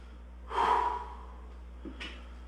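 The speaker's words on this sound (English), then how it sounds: "Just a good idea to get control of the breathing." Heavy breathing during a workout interval: one loud, forceful breath in the first second, then a quieter, shorter breath near the end, with no talking.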